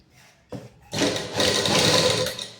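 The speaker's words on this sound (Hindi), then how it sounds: "आराम से एक हम सिलाई लगा देंगे।" A sewing machine runs steadily while stitching a suit neckline, starting with a brief whir and then buzzing loud and close for a couple of seconds.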